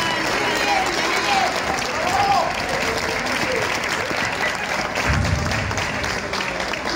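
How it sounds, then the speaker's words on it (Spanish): Applause for two singers at an outdoor pensioners' anniversary rally, a steady crowd clapping held throughout at fairly even loudness, with people talking and calling out underneath and a low rumble near the end. "Un aplauso grande para ellos."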